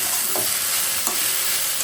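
Leafy greens frying in mustard oil with cumin and dried chili in a wok, giving a steady close sizzle with a couple of soft stirring scrapes.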